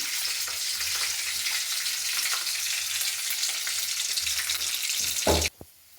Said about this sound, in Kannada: ಈಗ ಈರುಳ್ಳಿ ಹಸಿಮೆಣಸಿನ್ಕಾಯಿ ಎರಡನ್ನೂ ಒಗ್ಗರಣೆಗೆ ಹಾಕ್ಕೊತಿದ್ದೀನಿ.